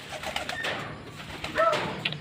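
Pigeons coo softly nearby, a few low, throaty calls rising over a quiet background.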